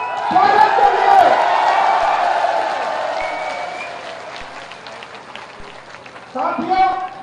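A crowd at a public rally in Bilaspur claps to welcome the chief minister, a broad steady wash of applause that swells at the start, thins out, then surges again near the end, with a voice speaking over it.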